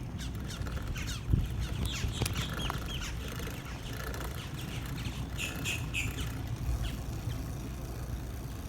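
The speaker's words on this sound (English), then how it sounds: "It's just nice because you hear the birds" Birds chirp and tweet intermittently outdoors at a lakefront park in Kissimmee, Central Florida, over a steady background hum, with scattered small calls near and far and no talking.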